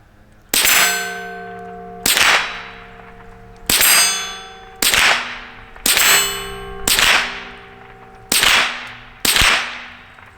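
Eight sharp metallic clangs ring out at irregular intervals, each with a bright ringing tail, as .22 rounds from a Marlin Model 60 rifle strike small steel targets; no voices.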